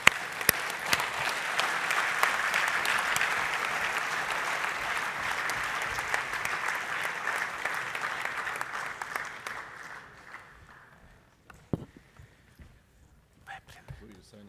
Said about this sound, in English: Can I ask you a round of applause to encourage the signature?